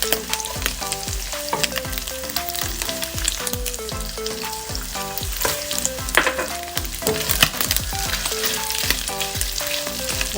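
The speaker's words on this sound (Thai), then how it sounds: "ตอนนี้หมูก็เหลืองแล้วนะคะ เราก็จะใส่ตะไคร้ลงไปค่ะ" Pork belly stir-frying in a pan with lemongrass gives a steady, close sizzle and crackle with scraping stir strokes, heard under continuous background music with melodic notes.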